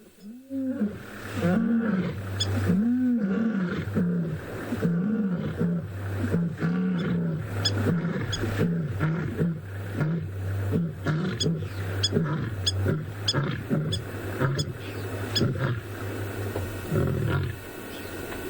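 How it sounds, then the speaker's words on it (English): Two lionesses roar together in a long chorus, rhythmic grunting calls rising and falling in repeated deep bursts, fairly close and strong, with faint background sounds between calls. "There is nothing like a roar of a lioness or a lion That was a beautiful chorus by these two girls."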